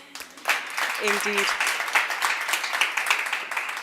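An audience at a corporate launch event claps in a steady, moderately loud wash of applause that carries on after a brief spoken word at the start.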